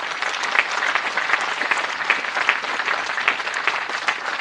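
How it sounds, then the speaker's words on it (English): Sustained, dense applause from a large audience at a Williams College commencement ceremony in 2025, steady and loud throughout with no pauses. "So I think you should give one more round of applause to all those who got you here."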